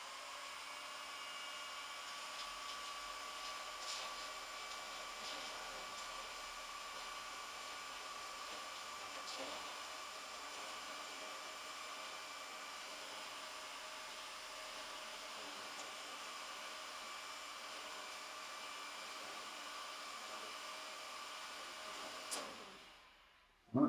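Hot air blows steadily onto a motorcycle mirror mount, a constant close whooshing hum that runs on without a break and cuts off abruptly at the end.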